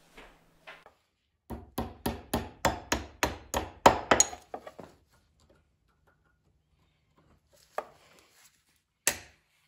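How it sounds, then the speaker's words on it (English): A hammer taps a trailer bearing buddy on a Hobie Tandem Island trailer hub. About a dozen sharp metallic knocks come in a quick, steady run, then stop. Three more isolated taps follow after a pause, close and moderately loud. "I'm just gonna tap it gently with a hammer, see if we can get this bearing buddy to come off."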